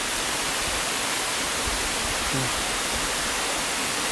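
Barriowin Falls, a tall hidden waterfall in upper Marikina, Philippines, running at modest flow, gives a steady, dense roar of falling water that fills the whole scene without a break.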